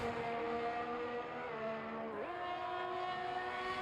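Race car at full throttle in a race in Azerbaijan, a loud sustained engine whine held steady, with one quick pitch dip and climb at a gear change, alone without voices.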